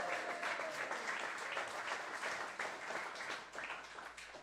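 At a live show, an audience gives a painter a warm round of applause, steady dense clapping from a fairly small crowd, heard alone without talk.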